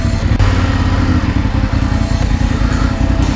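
A BMW F850 GS motorcycle engine runs loud and close, rumbling at a steady idle with a rough, throbbing low end and no voices.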